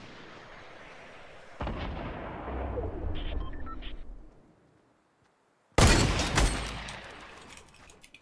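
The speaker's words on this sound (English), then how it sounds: "This gun's a laser! Holy shoot! What is that? It's just a normal assault rifle? No, it's a SCAR" A SCAR assault rifle in Fortnite Battle Royale booms out in heavy, echoing blasts: a sustained rumbling volley, a brief quiet gap, then a sudden loud burst that tails off, with no speech.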